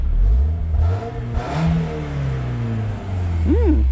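A 1998 BMW Z3 sports car engine with 177,000 miles revs up and settles, loud and close, then idles with a rough rumble.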